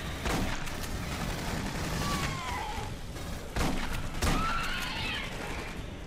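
Gunfire in the video game Aliens: Colonial Marines rattles as steady, dense bursts under a constant wash of game noise, with a couple of heavier booms punching through midway.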